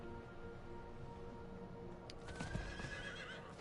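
A horse in the video game Diablo IV whinnies with a rising neigh after being called, while hoofbeats clip-clop faintly in the background over a low game ambience.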